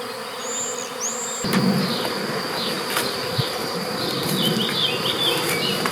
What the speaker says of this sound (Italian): Non fa niente le api, non preoccupatevi, non correte